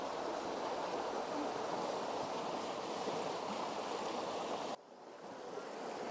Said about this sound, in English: look at the river. It is very rapid.